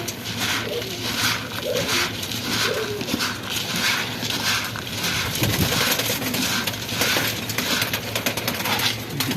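Pigeons in a loft coo amid a constant wash of rustling and scuffling noise around their mixed grain feed. The cooing is dense and continuous, with no clear talk.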